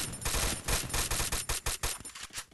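Rapid gunfire from a fast-firing weapon in the video game Free Fire, a quick burst of close, crisp shots that thins into spaced individual pops toward the end.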